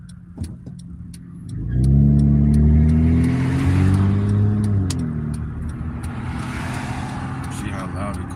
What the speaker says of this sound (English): See how loud the car is when as soon as I pull off?